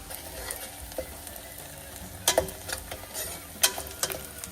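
Stone flower spice crackling in hot oil for a mutton curry tempering, a steady soft sizzle with a few sharper pops and spits, close and moderately quiet, no voices.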